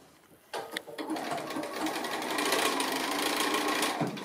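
Sewing machine stitching the centre seam of a quilt heart block, a close, steady fast mechanical whirr after a few starting clicks, running evenly until it stops.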